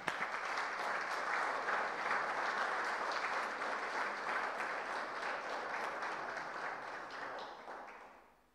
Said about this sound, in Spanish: El aplauso de todos para la reconocida labor de las docentes universitarias.